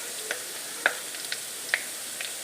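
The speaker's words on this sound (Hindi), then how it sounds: "ये देखिए जी, कोफ्ते हमारे फ्राई हो रहे हैं।" Chana dal koftas fry in hot oil, giving a soft continuous sizzle with a few sharp pops and crackles spaced irregularly through it, close by and fairly quiet.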